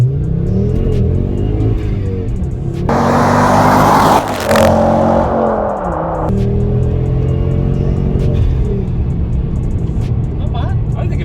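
Mk2 Ford Focus ST pulling away in first gear, the engine note climbing steadily and loud from inside the cabin, with a brief surge of broadband roar midway before settling into a rising drone; a voice speaks over parts of it.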